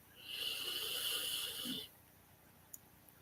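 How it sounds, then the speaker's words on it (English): A single long, deep inhale of air lasts nearly two seconds, close and breathy, followed by near silence and a faint click. "let's sit up and let's take our breath in"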